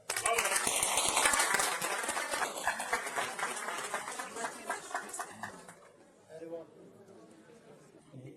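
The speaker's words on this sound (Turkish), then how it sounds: "kendinizi lütfen kuvvetli bir alkışlayın" An audience at a CHP political gathering in Malatya claps loudly, rhythmic applause with chatter under it, fading away after a few seconds.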